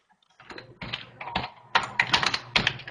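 Rapid keyboard typing, close by, in uneven bursts of clicky keystrokes that grow louder and denser toward the end, with no talking.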